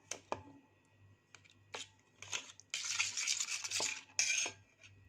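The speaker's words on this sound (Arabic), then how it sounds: "هقلب كله مع بعض." A spoon stirs shawarma marinade with yogurt in a bowl, making soft, close, intermittent wet scraping and clicking strokes with brief pauses, ending in a denser burst of scraping, with no talking.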